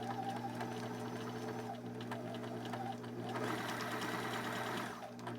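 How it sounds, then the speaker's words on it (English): A sewing machine runs a straight stitch across gathered fabric, a steady close mechanical whir with a faint rhythmic chatter that speeds up briefly near the end, running alone. "I'm going to do a nice little just straight stitch right across that and holding those gathers like I want them"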